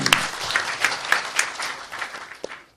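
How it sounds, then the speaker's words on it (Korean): Audience applause at a Gyeonggi Province policy debate forum, a steady patter of clapping from a seated crowd that thins and fades out over a few seconds, with no talk over it. "박수 부탁드립니다."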